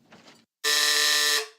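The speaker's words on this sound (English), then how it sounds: "Well, it looks like Buzz hit the buzzer first." A game buzzer in a classroom poetry tic-tac-toe game is hit after a brief soft rustle, then sounds a loud, harsh, steady electronic buzz for nearly a second before cutting off.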